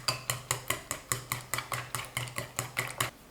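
Beaten egg with chopped scallions and salt whisked briskly in a bowl, a steady rhythm of about fifteen quick clinking strokes, close and clear with no talking.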